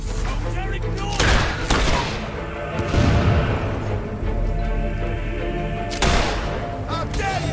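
Gunfire erupts in the video game Fable 3, with several loud bursts of shots and booms scattered through a tense battle scene. Voices shout over parts of it.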